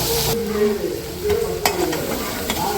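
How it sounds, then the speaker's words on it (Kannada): Green chili and curry leaf paste frying in a pan, a steady close sizzle with occasional stirring scrapes and clicks, no voices. "ಸ್ವಲ್ಪ ಹಸಿ ವಾಸನೆ ಹೋಗೋವರೆಗೆ ಫ್ರೈ ಮಾಡಬೇಕು."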